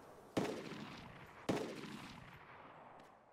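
Two sharp pistol shots in the survival game DayZ Epoch, about a second apart, each cracking loudly and then fading into a long reverberant decay, with nothing else heard.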